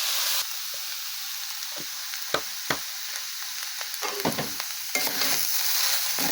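Banana stem frying in a wok as its water cooks off, a continuous close sizzle broken by repeated sharp scrapes and clanks of a spatula stirring.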